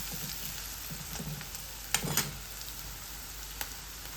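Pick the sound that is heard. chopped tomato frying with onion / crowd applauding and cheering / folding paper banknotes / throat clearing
chopped tomato frying with onion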